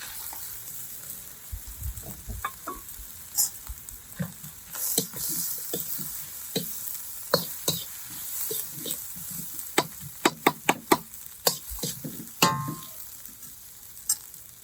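Rice fries in a pan for jerk pork fried rice, giving a soft, steady sizzle broken by sharp clinks and scrapes of stirring utensils; no one speaks.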